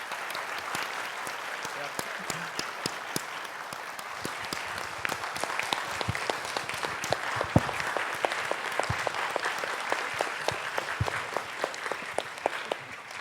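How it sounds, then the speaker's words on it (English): At a volunteering conference plenary session in Bangkok, an audience applauds the support team, a long, sustained roll of clapping where sharp individual claps stand out above the crowd, swelling slightly through the middle and staying steady to the end. "let's have a round of applause for them first"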